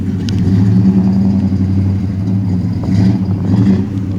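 A 1970 Plymouth Road Runner V8 with a throaty exhaust rumbles steadily up close, holding a deep, even engine note throughout with only slight swells in level.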